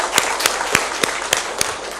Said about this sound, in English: let's make them a round of applause